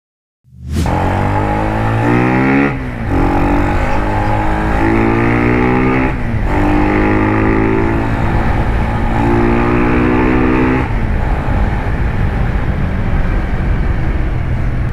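Keeway CR152 motorcycle engine with a battle pipe exhaust runs loud and close for the whole stretch, its steady throaty drone shifting pitch as the throttle rises and eases in a few swells.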